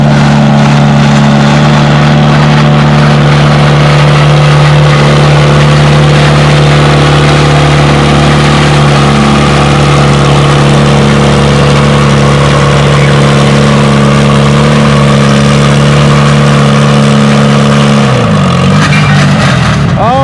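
A pulling tractor's engine roars continuously at a tractor pull, loud and steady at close range for most of the time, then shifts pitch near the end as it revs. A voice is faintly present under the engine.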